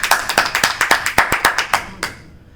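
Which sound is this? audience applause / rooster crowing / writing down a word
audience applause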